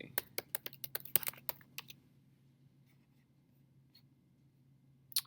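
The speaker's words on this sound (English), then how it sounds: "And you could also type in portrait." Quick bursts of computer keyboard typing as a photo search is entered, a rapid run of close, crisp key clicks for under two seconds, then near silence over a low steady hum, with one faint click at the end.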